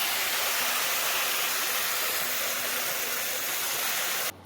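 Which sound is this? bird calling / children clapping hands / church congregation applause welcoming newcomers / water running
water running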